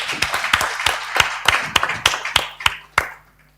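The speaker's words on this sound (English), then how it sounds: "I want that you clap your hand for the students which are there" Scattered clapping from a small audience at a university English Day event, about a dozen sharp distinct claps in an uneven rhythm, close and fairly loud, ending in quiet.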